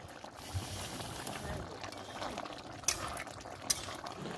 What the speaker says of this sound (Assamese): উতলি আছে চোৱা শব্দটো শুনা